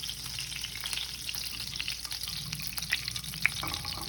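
Lard melting in a pan over medium heat, giving a low, steady crackling sizzle with a few sharper pops and faint stirring sounds, quiet and close.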